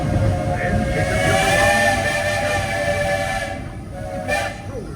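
Walt Disney World Railroad steam train pulling into Frontierland Station, its steam whistle sounding in long, loud sustained blasts over steady rumbling train and rail noise, with a brief quieter gap near the end.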